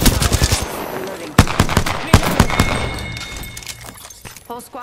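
Automatic weapon fire in the Apex Legends video game: rapid bursts of loud, close gunshots with several heavy single cracks, tailing off into quieter fire near the end.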